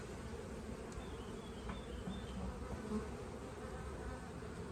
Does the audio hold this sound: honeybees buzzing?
yes